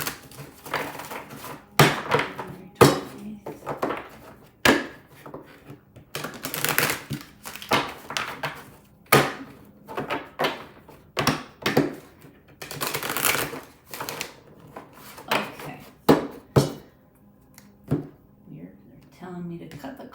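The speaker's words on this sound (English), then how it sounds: "I'm gonna shuffle a little bit here" A tarot card deck is shuffled in repeated crisp riffles and slaps close up, in uneven bursts, while a voice talks softly underneath.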